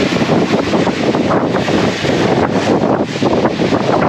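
Strong wind roars and buffets the microphone continuously at a marina while docking a 60-foot yacht, loud and unbroken, with slight surges as gusts rise and fall.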